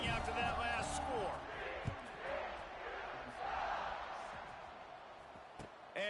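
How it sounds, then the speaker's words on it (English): A stadium crowd at a TCU college football video game buzzes in a broad, continuous roar after a touchdown, swelling and easing in waves with a few sharp thumps. "this crowd is buzzing after that last score"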